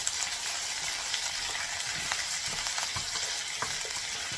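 Chicken pieces go into a pan with onion and garlic and fry there, giving a steady, fairly quiet sizzle with crackles and stirring scrapes, and no talk over it.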